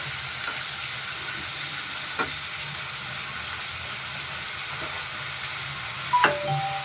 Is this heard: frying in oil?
yes